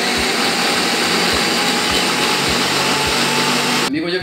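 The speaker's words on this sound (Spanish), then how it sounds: "todo esto lo vamos a llevar a licuar o a procesar aquí en nuestra" A blender runs steadily at high speed blending a chili mixture, a loud dense whir with a faint rhythmic thump, then cuts off abruptly near the end.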